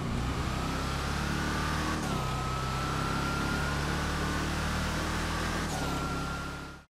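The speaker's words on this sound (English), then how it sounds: "it does have that supercharger whine" Hellfire car in GTA Online, engine running steadily with a sustained supercharger whine over a low rumble, a brief rev shift around two seconds and again near six, fairly close and alone without talk.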